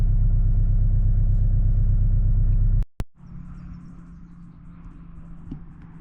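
A 2023 base Porsche 718 Boxster with a turbocharged inline-four and seven-speed dual-clutch gearbox, driving on a mountain highway: a loud, steady low engine drone that cuts off abruptly, leaving quieter road ambience with faint bird chirps.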